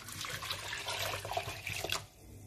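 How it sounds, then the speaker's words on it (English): Lukewarm water pours steadily into a pot for about two seconds, then stops. "just pour in some amount of warm water"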